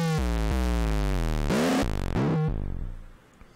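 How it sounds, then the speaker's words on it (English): Square wave from a second modular synth oscillator, a buzzy harmonic-rich tone stepping down through a series of pitches with a few noisy bursts, played alone and loud before fading out at the end. "the square wave output from oscillator B,"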